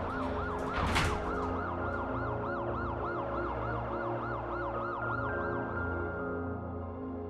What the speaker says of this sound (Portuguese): aos sons das sirenes de fundo